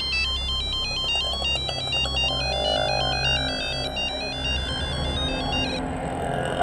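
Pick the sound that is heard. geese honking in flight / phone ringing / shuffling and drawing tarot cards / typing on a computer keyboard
phone ringing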